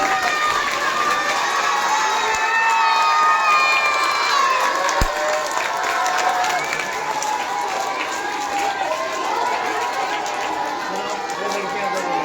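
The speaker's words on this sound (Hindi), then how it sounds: "चलो, तालियां बजाओ" Children cheer and shout in a crowd at a school award ceremony at Ramgarh Academy English Medium School, a steady, loud wash of young voices with talk mixed in and no clear rhythmic clapping.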